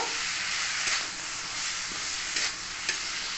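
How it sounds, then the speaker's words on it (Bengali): Yardlong beans and potatoes fry in a pan over a low gas flame, giving a steady sizzle and hiss. Soft scraping strokes from stirring recur every second or so. "গ্যাসের ফ্লেমটি লো করে ভালো করে আমি এখানে এবং নাড়াচা করে রান্না করব"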